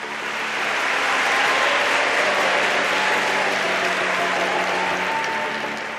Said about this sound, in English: That tiny, polite ripple of applause you might get at the end of a lecture, well, it turned into this.